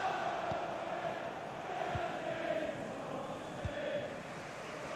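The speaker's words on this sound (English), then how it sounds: "just listen to the Liverpool fans" Liverpool fans cheer in a football video game stadium, a steady, distant crowd roar that swells and holds throughout with a few faint thumps, no talk over it.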